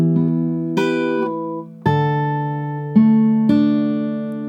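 Acoustic guitar plays a section of a song slowly, with a few spaced chord strums and picked notes that ring out sustained and close, no voices.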